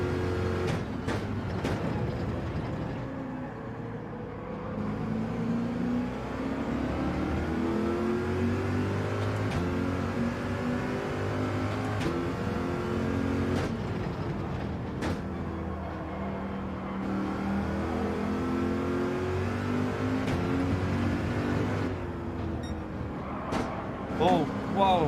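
A Subaru race car in a Gran Turismo 7 daily online race drones loudly and continuously, its engine pitch climbing through gears and dropping at shifts, with a few sharp clicks.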